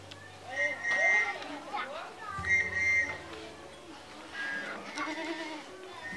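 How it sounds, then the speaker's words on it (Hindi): A goat bleats in short calls at a household, heard amid excited voices and background talk, with repeated bleats rising over the chatter. "देवा एक तुम बकरी नहीं पकड़ पा रहे हो"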